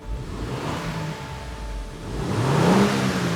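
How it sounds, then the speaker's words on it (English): A 2024 Lexus GX550's twin-turbo V6 with a Magnaflow exhaust idles with a low rumble, then revs up, the pitch rising briefly before settling back down. "This thing has a twin-turbo V6. Sounds okay, but"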